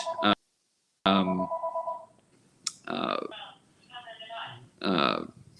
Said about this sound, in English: you're going to hear a phone ring for a little bit